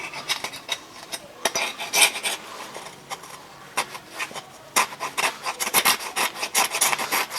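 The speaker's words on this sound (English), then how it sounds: "I should have left the old gasket on. This now, scrape all that off." A blade rasps repeatedly across a KTM 300 engine case, scraping off an old gasket during a bottom end rebuild, in irregular close strokes with brief pauses between.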